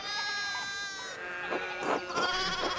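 Sheep in the video game Pentiment give a short run of bleats, first a drawn-out nasal cry, then several quick shorter calls, fairly faint over a quiet background.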